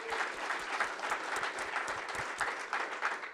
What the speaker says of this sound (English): a round of applause for all those folks